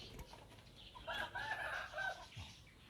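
Backyard chickens in a small home coop, let out in the morning, give a faint cluck and a short crow-like call amid quiet rustling ambience.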